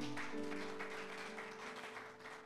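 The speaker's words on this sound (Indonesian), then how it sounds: "Tepuk tangan bagi Tuhan" A church congregation at a Sunday worship service claps, a soft, distant wash of applause under sustained keyboard tones.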